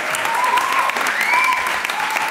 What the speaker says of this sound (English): Can we have a better round of applause for that, please?